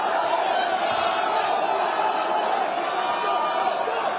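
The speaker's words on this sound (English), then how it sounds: "The crowd's into it." Crowd at a UK bare knuckle boxing event, a dense steady roar of cheering and shouting voices that fills the whole stretch and stays loud and unbroken.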